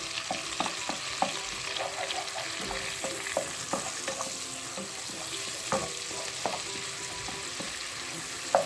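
Tomato paste mashed in a frying pan with a spoon for tarhana soup, steady close sizzling under repeated rhythmic scraping and tapping strokes against the pan.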